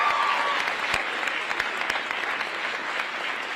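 Steady applause from a campus audience at a vice-presidential event in Reno, a dense wash of clapping that holds evenly throughout without pause.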